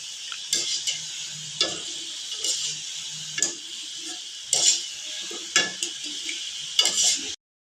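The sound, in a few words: kodubale frying on low flame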